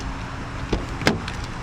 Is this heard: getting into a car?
yes